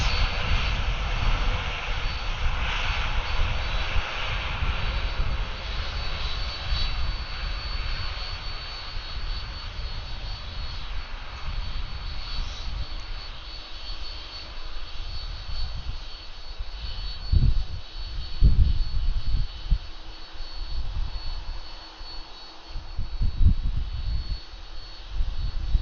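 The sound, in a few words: Airbus A330 jet with Rolls-Royce Trent 700 engines taking off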